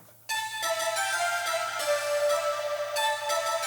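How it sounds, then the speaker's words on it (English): An African flute plays a melody of sustained, bright, breathy notes that shift in pitch, beginning abruptly after a brief quiet moment, with a low steady hum underneath and no talking. "the first thing I ever did was a flute"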